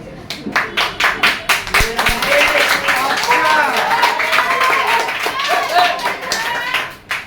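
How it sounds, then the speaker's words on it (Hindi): A group of people claps in quick, rhythmic bursts at first, then the clapping continues more loosely under loud talking. "जब ताली बजाना चालू किए तब तो ये अपना उठे हैं चेयर से"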